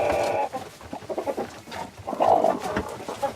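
A broody hen sitting on turkey eggs makes low, grumbling clucks and short growly calls close by, in uneven bursts.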